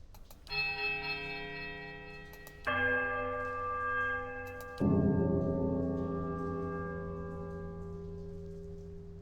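Struck bells in the Pillars of Eternity video game toll three times in succession, each deep resonant strike ringing out loud and decaying slowly before the next, with no voices present.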